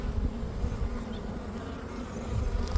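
Honey bees buzzing steadily and close during a beehive inspection, a dense continuous drone with slight swells, no voices over it.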